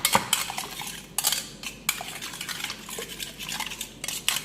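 A utensil scraping and clattering against a pot as ingredients for Iranian chicken tahchin are mixed, with bursts of brisk metallic scraping separated by brief pauses, close and fairly loud, with no talking.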